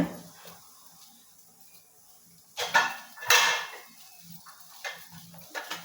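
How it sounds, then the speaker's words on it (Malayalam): A lid is set onto a cooking pot of raw banana thoran, giving a couple of sharp metallic clanks close by over faint kitchen background. "ഇതൊന്ന് അടച്ച് വെച്ചൊന്ന് വേവിക്കുക"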